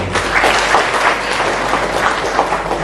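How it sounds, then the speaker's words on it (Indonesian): Loud, sustained audience applause for a professor at an Islamic lecture gathering, many hands clapping in a dense continuous wash over a low background hum, without speech. "Tepuk tangan untuk Prof."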